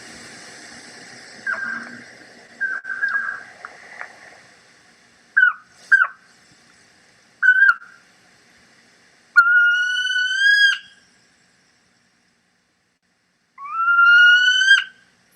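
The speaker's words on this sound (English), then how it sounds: "these are sounds that are referred to as barks or kissu calls, and then they're going to change, and then they're going to turn into whines" A single mountain owl gives a run of short barking kissu calls, first in brief clusters and then as isolated notes, before shifting into longer rising whistled whines. The calls are clear and fairly close, separated by quiet gaps.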